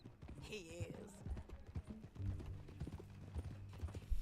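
Horse hooves clip-clop in the Red Dead Redemption 2 video game, a steady walking rhythm under men's conversation and low ambient game sound.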